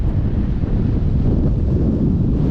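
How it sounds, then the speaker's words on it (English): Strong wind buffets the microphone with a constant, heavy low rumble, loud and unbroken throughout, at a bay on the Yorke Peninsula, South Australia. "Such a shame it's just so windy at the moment."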